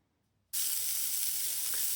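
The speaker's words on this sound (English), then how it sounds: "Here's my sizzling Brussels sprouts." Brussels sprouts hit a hot pan and burst into a loud, steady sizzle after a brief silence, the frying hiss continuing evenly to the end.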